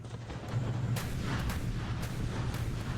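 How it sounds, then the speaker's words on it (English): Artillery fire striking a ship in the naval building game ShipCrafter: a low, sustained rumbling barrage with several sharp booms and bursts from about half a second on, fairly loud and dense, with no talk. "Also, we appear to be getting shot at."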